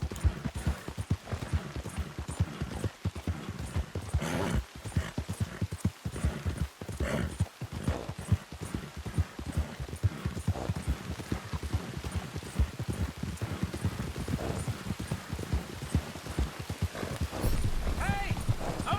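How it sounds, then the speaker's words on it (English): Horse hooves clip-clop in Red Dead Redemption 2, a rhythmic, steady trot of distinct hoof strikes running throughout, mixed with game ambience and occasional voices. "I don't want this horse. It's really slow."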